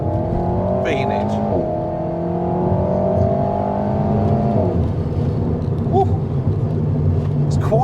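An Alpine A110 sports car accelerates hard in second gear, engine note climbing steadily from inside the cabin before a shift, with a voice speaking briefly over it.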